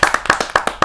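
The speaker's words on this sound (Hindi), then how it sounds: "जहाँ जोरदार तालियों के साथ हम स्वागत करें अरुण साहिबाबादी।" Audience clapping at a kavi sammelan poetry gathering to welcome a poet, a quick run of sharp, evenly spaced claps that sound close and fairly loud.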